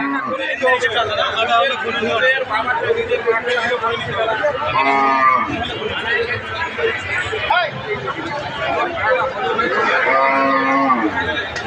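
Cows and calves at a busy cattle market moo repeatedly, close and loud, over a constant babble of crowd chatter and bargaining voices.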